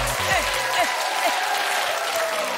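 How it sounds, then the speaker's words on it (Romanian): Audience applause at a televised roast show, a dense sustained burst of clapping from a large crowd, with a voice briefly heard at the start. "haideți să primim cu aplauze puternice"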